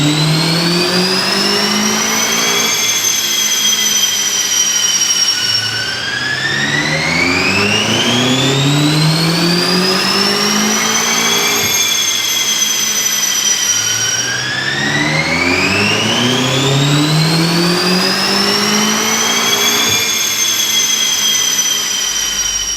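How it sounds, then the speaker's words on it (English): A BMW M5 engine revs repeatedly on a dyno, loud and close, climbing in long rising sweeps through the gears, then dropping and building again in a steady cycle with no voices. "We've run the BMW up on the dyno."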